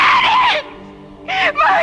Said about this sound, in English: When we heard you scream, we didn't know what to think.